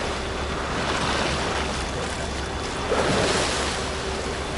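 High sea waves surge in a loud, continuous rush off Okikuroshima at Yonouzu, Oita, with a brief swell of crashing water partway through and wind buffeting the microphone.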